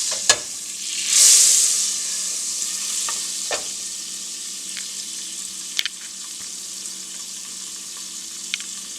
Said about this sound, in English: Fresh garlic to the butter.